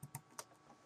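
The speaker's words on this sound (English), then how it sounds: "I'm going to type the website address" Someone types a website address on a computer keyboard: three or four quiet, close keystroke clicks in under a second, with no talking.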